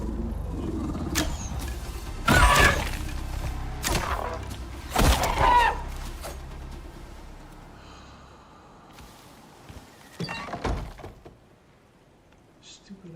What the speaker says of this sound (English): there's a moa. This is a problem because these fucking birds are aggressive.